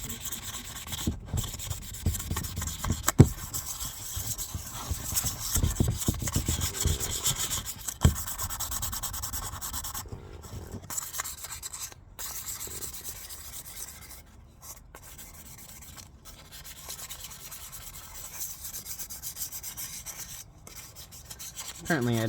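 An axe blade is rubbed back and forth across a wet sharpening stone in a long run of steady, gritty scraping strokes, close by, with a few brief pauses and no talking.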